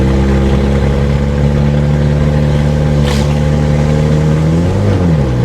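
A 1991 Plymouth Colt Vista with a Mitsubishi 4G63 engine and 74K miles accelerates loudly from inside the car, its engine note climbing steadily before dipping near the end as it shifts from first into second gear.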